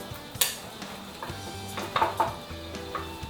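A wooden spoon wriggles jaffles filled with lamb roast around inside a hot jaffle iron, giving soft scattered scraping, clinking and knocking sounds over a faint sizzle, fairly quiet and close.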